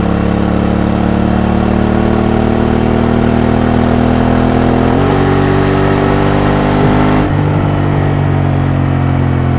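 A motorcycle engine runs steadily while riding, a continuous loud drone with strong low harmonics, a slight pitch shift midway and a change near the end as wind-like noise drops away; no talking.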